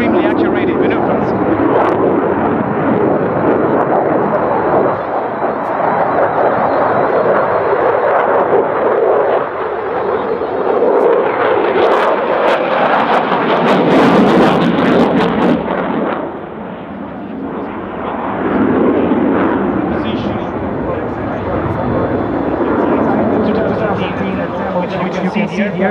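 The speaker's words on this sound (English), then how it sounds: "The aircraft turning in a very small space." A Eurofighter Typhoon jet maneuvering in tight, high-angle turns at the Radom 2013 air show gives off a loud, continuous roar that swells and surges throughout, with a commentator talking over the noise.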